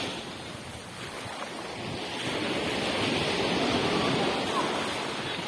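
Sea waves roll onto Pentha beach with a broad washing roar that swells louder midway, mixed with wind buffeting the microphone.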